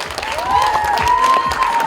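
A crowd applauds and cheers for a film director at a Border 2 film event, giving a loud, continuous burst of clapping with a ringing tone running through it.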